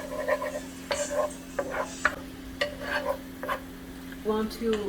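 White wine hits a hot pan for a poblano shrimp Alfredo sauce, sizzling and reducing under intermittent scraping stirs and light utensil clinks, with a faint steady hum behind.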